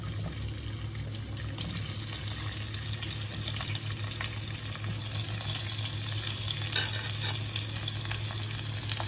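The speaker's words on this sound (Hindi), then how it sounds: "इस प्याज को 2 मिनट तक मुझे सॉफ्ट करके इसे अच्छी तरह से भून लेनी है" Three large cut onions, with peeled garlic, fry in a pan with a continuous, even hiss that stays at a moderate level throughout, over a low steady hum.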